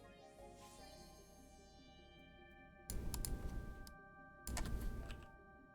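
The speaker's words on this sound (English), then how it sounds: "I automatically start typing it in" Keys clack on a computer keyboard, two short bursts of rapid typing, close and fairly quiet over game music.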